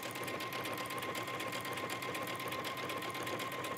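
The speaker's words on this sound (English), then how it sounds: "I'm using the regular standard presser foot for this." A sewing machine with a standard presser foot runs steadily through a garment hem, its rapid, even mechanical stitching close and continuous throughout with no talk.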